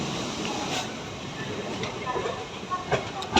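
A Rajahmundry–Kakinada local train runs near Samalkot station, heard from inside as a steady broadband rush with occasional clicks and knocks from the track. A voice is faintly present.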